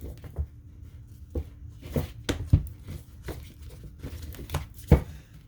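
A deck of spirit animal oracle cards is shuffled by hand, giving a series of soft, close riffling and slapping bursts at irregular intervals against a quiet room, with no talk.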